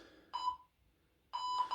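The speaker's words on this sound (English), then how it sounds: "Here's our beeps." Two electronic exercise timer beeps sound a second apart, the first short and the second longer with a warbling tone, both fairly quiet.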